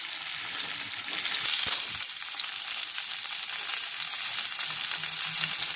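Pirandai (veld grape) stems and tamarind sauté in hot oil with a steady, loud, close sizzle and crackle that never lets up, with no one speaking.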